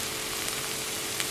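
Onions frying in hot oil for khichdi, a steady close sizzle and crackle with a few small pops.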